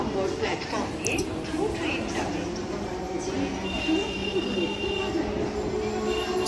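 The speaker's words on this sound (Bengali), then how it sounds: "তাই এখানে আর বেশি সময় নষ্ট না করে আমাদের ট্রেন ছেড়ে দিল তারকেশ্বরের জন্যে" A local train pulls away on the Howrah–Tarakeswar line, its wheels squealing in steady high whines over a continuous rumble of carriages, with voices murmuring in the background throughout.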